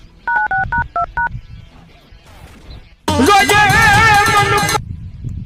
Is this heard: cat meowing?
no